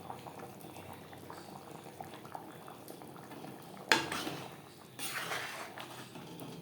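Bengali fish egg curry of rohu roe simmering in gravy, a soft continuous bubbling, with a utensil clattering against the pan and a louder stirring scrape partway through.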